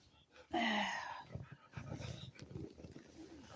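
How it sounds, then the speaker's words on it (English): Pet dogs indoors in the early morning, eager to be let outside, give a short loud whining bark-like cry, followed by a person talking over faint background movement. "Hold on a second while I let my dogs out."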